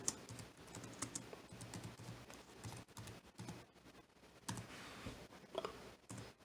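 Quiet bursts of typing on a computer keyboard, rapid soft key clicks in short irregular runs separated by brief pauses, close by and without talk.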